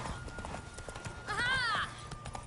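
Horse hooves clip-clop rhythmically in The Witcher 3 video game, a quick steady gallop with a short neigh partway through and speech mixed in.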